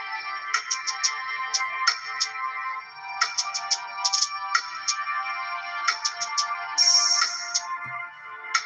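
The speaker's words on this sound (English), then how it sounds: "Notifications just came through." A bright electronic phone alert of quick repeated chimes in irregular clusters, ending in a sustained high tone, clear and fairly loud with nothing else around it.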